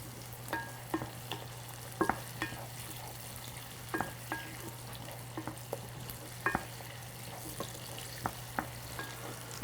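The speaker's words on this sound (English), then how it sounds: "Now our onions is sweating very well" Onions sweat in a pot with a steady low sizzle for a red red dish, broken by sharp clinks and scrapes of stirring spaced every second or so, with a constant low hum behind.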